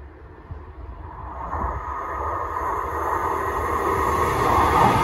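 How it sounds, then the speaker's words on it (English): A Class 195 train rumbles closer to a level crossing, its low roar building steadily louder over five seconds, with faint high-pitched rail or horn tones drifting above. "train approaching"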